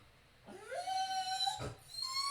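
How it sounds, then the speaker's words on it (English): A dog lets out a drawn-out, high whining whimper that rises and wavers, close and fairly clear against a quiet background, with a short break and a second whine at the end. "even my dog's weeping at the sadness of all this"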